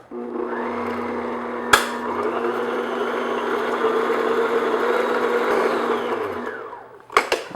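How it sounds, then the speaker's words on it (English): An electric mixer whirs continuously at medium-high speed, beating vanilla into peanut butter cup cookie batter in a bowl. A sharp knock is heard early on, and the motor winds down near the end before a few more clunks. "I'm just going to beat this medium-high speed just to get everything mixed together and a little bit of air into the batter"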